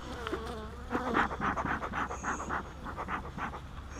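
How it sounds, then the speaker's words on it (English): Bees buzz around a beehive being split for queen cells, a dense, wavering drone close to the ear that pulses in loudness, with no talk. "Bees."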